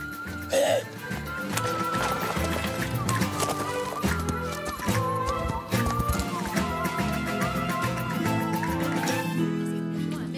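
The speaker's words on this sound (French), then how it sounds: "c'est comme s'il y avait un cheval là, juste derrière nous" Cartoon horse hooves clip-clop steadily beneath a running musical score, from a horse tied behind a cart, the clopping mixed in with the melody at moderate volume.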